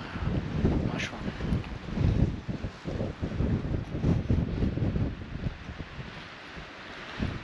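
Gusty wind buffets the microphone in rough, rumbling bursts that rise and fall continuously around a dachshund's flapping ears, with no voices.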